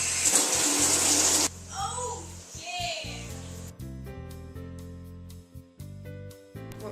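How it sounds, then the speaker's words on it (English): A shower runs with a loud, close hiss of water for about a second and a half, then shuts off abruptly, followed by people talking. "I'm going to go take a shower."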